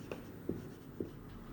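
Handwriting on paper during accounting notes, with three faint, soft pen strokes and taps spaced about half a second apart against a quiet background.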